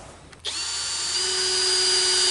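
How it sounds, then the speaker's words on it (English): A power drill bores pilot holes for the closer base while installing an Andersen 3000 storm door, starting abruptly and then whining at a steady, loud, close pitch. "You're going to drill 3 pilot holes for the base."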